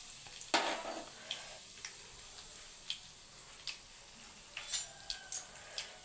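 Crushed garlic and curry leaves sizzle gently in a pan with oil, a faint steady crackle broken by sharp pops and spatters, no voices.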